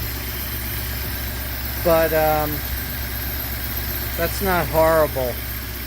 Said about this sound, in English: It seems to be idling very nicely, so I'm gonna declare success.